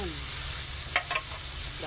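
Shrimp fry in a pan of pinakbet with a soft, continuous sizzle, broken by two brief scraping clatters near the middle; quiet overall, with no voices.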